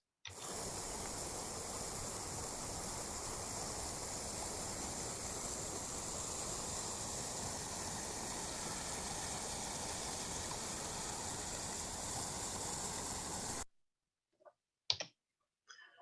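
Flood water after storms rushes beneath a garden nursery as a steady, broad, hissing flow that lasts about thirteen seconds, then cuts out and leaves a few faint knocks.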